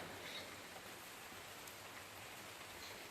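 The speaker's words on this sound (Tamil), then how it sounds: "மழை வர பெஞ்சிட்ருக்கா பாருங்க" Steady rain falls in a dense, even hiss with scattered drop patter, close and continuous throughout, with no voices.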